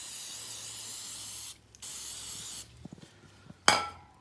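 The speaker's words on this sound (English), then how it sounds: "Just take this, spray it down both sides to kill off the oil." Brake cleaner sprays from an aerosol can onto the foam air filter of a 33cc Rapala Vortex ice auger: a long steady hiss, a short pause, another burst, then a few light clinks and a final sharp spurt.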